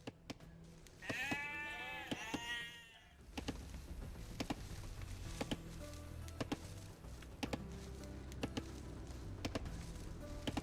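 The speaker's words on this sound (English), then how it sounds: "Now select the sheep by holding D-pad right, then move them to the town center." Sheep bleat in the Age of Empires 2 video game on Xbox Series S, a wavering tremolo cry early on, followed by a steady low game ambience punctuated by sharp clicks and chopping taps.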